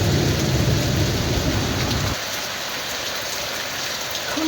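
A heavy downpour with hail and thunder roars loud and close at first, then drops sharply to a softer, steady rain hiss about halfway through.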